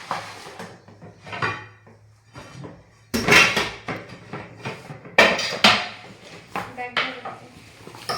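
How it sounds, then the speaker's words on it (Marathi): A pressure cooker, kadhai and tawa are packed into a bag at home, giving a series of loud metallic clanks and knocks in irregular bursts with quieter shuffling between them. "आता कुकर, कढई आणि तवा ते बॅगमध्ये खालीच ठेवते."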